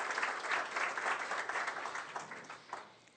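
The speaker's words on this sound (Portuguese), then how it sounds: "Eu acho que merece uma salva de palmas o chefe" Sustained applause from a seated luncheon audience for chef Tiago Sodré, steady dense clapping that tapers off toward the end.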